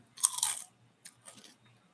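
Two crisp, loud crunches close to the mic, a sharp bite followed by a softer second chew, with quiet between them.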